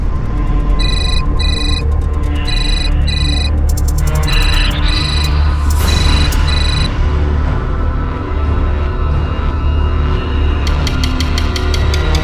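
A loud electronic phone ringtone repeats in short chirping bursts over a background of music and ambient sound.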